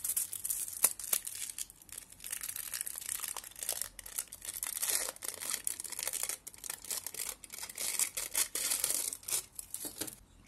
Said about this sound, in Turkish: folyo ve çikolatanın bu şekilde ayrılması da aynı lint gibi olmuş